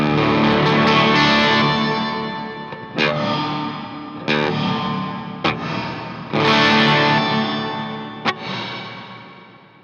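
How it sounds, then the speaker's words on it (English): Distorted electric guitar chords played through the octave reverb of an EHX Oceans Abyss pedal, sustained washes broken by several sharp re-struck hits, loud and close with no talk. "Octave reverb."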